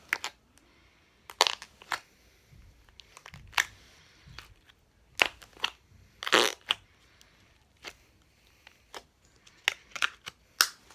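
Glossy slime clicking and crackling as it is squished, with a dozen or so sharp, crisp bursts spread irregularly over the stretch and quiet pauses between them, close up and moderately loud.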